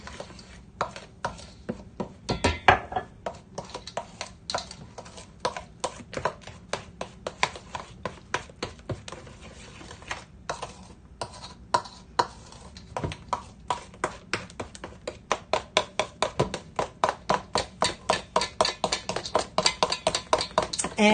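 Sugar is stirred into peach cobbler batter by hand with a utensil, making rapid rhythmic tapping and scraping against the bowl, steady at first and growing faster and louder toward the end.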